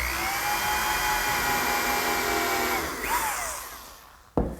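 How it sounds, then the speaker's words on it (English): A power drill drilling a hole in wood whines at a steady high pitch for several seconds, then spins down and stops, followed by a sharp clunk. "I'll drill a hole right at the top edge"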